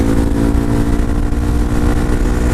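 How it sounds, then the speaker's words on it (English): A Suzuki DRZ400SM supermoto on stock gearing revs high at freeway speed, its single-cylinder engine buzzing loud and strained throughout, with wind rush over the steady drone. "as I sit here now, revving it up high"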